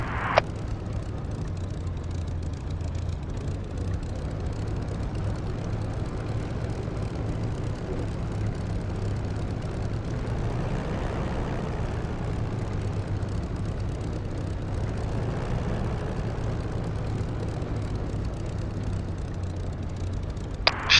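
A Spitfire Mk IX in the DCS World flight simulator taxiing onto a runway, its piston engine giving a steady low propeller drone at idle with no voices.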